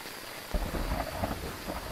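Steady rain hisses throughout in a Phasmophobia game map, with low rumbling thunder building from about the midpoint, no voices.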